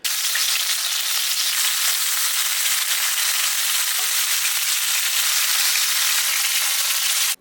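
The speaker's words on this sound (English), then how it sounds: "Gonna allow that to get nice and hot, and then we're gonna sear our steak." Steak searing in hot avocado oil in a pan, a loud, continuous bright sizzle and crackle with no talking, steady from start to finish.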